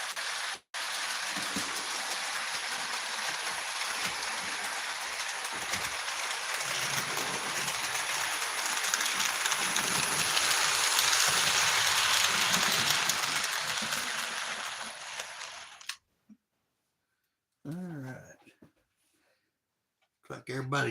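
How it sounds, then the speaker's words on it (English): A model steam engine train on a track layout, heard as a steady, sustained broadband rumble and hiss running close for most of the clip before cutting out, followed by brief faint noises. "Alright, let's get this train pulled back around here."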